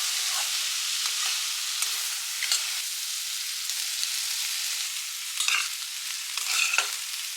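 Rice stir-fries in a hot pan with broccoli, spring onion, garlic and chili flakes, a loud continuous hiss with scattered spatula scrapes and clatters that grow busier toward the end.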